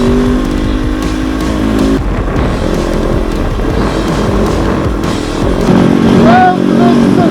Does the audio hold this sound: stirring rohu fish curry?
no